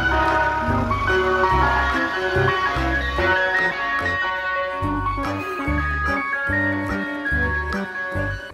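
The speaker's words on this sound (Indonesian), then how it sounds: "Di sini ada mobil es krim." Toy ice cream truck playing its jingly electronic melody continuously and loudly at close range, with a repeating bouncy rhythm throughout.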